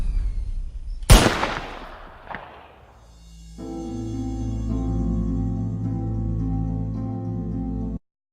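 A single sharp gunshot from a short film cracks out, loud and close, followed by a fading tail, a fainter second thud, and then a low sustained musical drone that holds until an abrupt cut.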